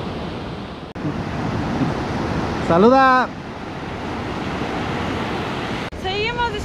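Ocean waves at Caleta de Campos beach in Michoacán roar in a steady, loud wash of surf with wind buffeting the microphone, and a short spoken call cuts through partway.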